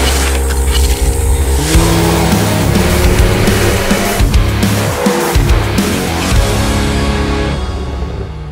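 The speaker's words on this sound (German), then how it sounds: "wenn ihr mit aktivierter Launch Control losfahren möchtet" A Volkswagen Golf R makes a full-throttle launch-control start, its engine held near 4000 rpm before pulling away. A loud, steady engine roar with rising revs runs through the whole stretch, with no talking.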